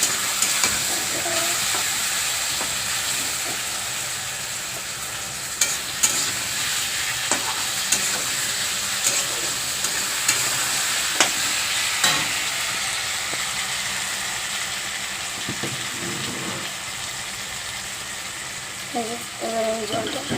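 Spices and potatoes stirred and frying in a pan, a steady close sizzle and hiss with occasional spoon scrapes throughout, and faint background noise.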